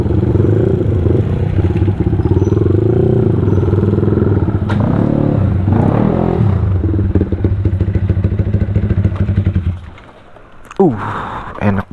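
A Yamaha MX King 175cc motorcycle engine hums steadily while riding, with rattles and knocks over it, then the engine drops away near the end.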